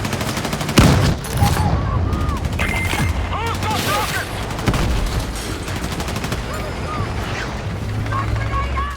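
Repeated cannon blasts and rattling gunfire from a Battlefield tank battle crackle amid dense explosions and mechanical clatter, with someone talking over the continuous din of combat.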